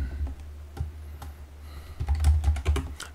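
Computer keyboard keys clatter in short irregular bursts of typing, close and clear, including quick keyboard shortcut presses for copy and paste, with no talking.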